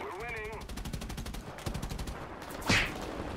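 Aircraft machine guns fire in War Thunder, with rapid rhythmic bursts through most of the stretch and a sharp louder hit near the end, while someone talks over it.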